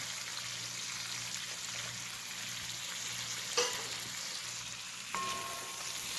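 Catfish frying in a tomato masala in a pan, a steady, even sizzle filling the whole stretch, broken by two brief metallic clinks, with no one speaking.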